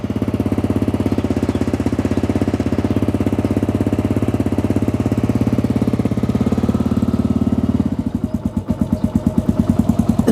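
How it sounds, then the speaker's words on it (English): A carbureted Kawasaki KLR650 motorcycle engine runs after a choke start with a steady, loud, close thumping idle, then shifts near the end to a rougher, pulsing beat as the revs change. "I just wanted to show you what it looks like with the bike running"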